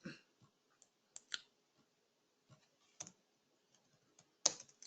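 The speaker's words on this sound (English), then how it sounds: "Typing it here." Keys clacking on a computer keyboard during a Java servlets programming session, sparse irregular clicks with a few louder strikes and short bursts, close and alone.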